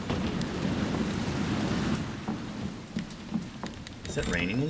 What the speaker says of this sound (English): Is it raining in here now?